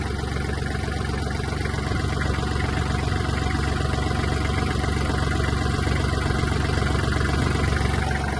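A Kubota GL-260 mini tractor's warmed-up engine idles steadily with a constant low rumble and vibration, loud and close, running without pause or change in speed.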